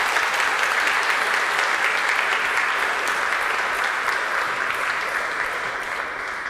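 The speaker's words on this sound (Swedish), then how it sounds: "Jag tycker vi ger dem en stor applåd." Congregation in a cathedral applauding the choir Vox Maria after an Advent service, loud dense steady clapping that fills the room and eases slightly toward the end, no voices over it.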